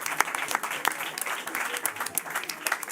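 A studio audience on a television quiz set applauds the six contestants, a dense, steady patter of clapping hands with scattered sharper claps, fairly close and continuous throughout.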